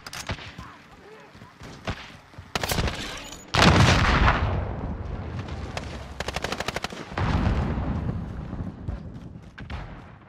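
Gunfire from a shotgun in Call of Duty: Modern Warfare, with bursts of loud, rapid shots and booming blasts in several clusters over a busy game soundscape, with some talking mixed in.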